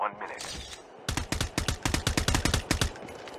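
An accidental discharge in Call of Duty Mobile, heard as a loud, rapid burst of about a dozen close automatic gunshots after a brief muffled rustle.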